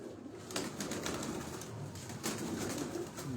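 Pigeons coo softly and repeatedly, a golden pigeon kept as a hobby bird, with low murmuring calls close by over a faint background rustle.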